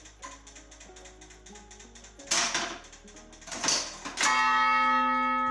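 A lighthouse fog bell, struck by a hammer on a clockwork arm, rings out loud and close over a ticking mechanism, with a few clanks and a long ringing tone at the end.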